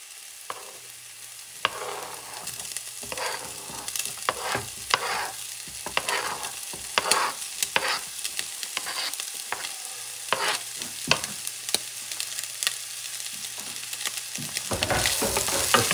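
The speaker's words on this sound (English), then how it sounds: "And I'm going to add the chopped octopus" Chopped octopus fries in a pan for Spanish octopus rice, a constant close sizzle broken by repeated scraping and knocking of a utensil as it is stirred.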